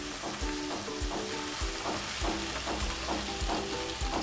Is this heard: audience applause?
no